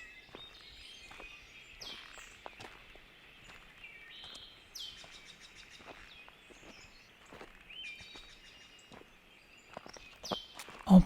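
Birds chirp and tweet in short, scattered calls within a quiet relaxation soundscape, with soft footstep-like rustles and light taps underneath, fairly faint overall, ending on a louder thump.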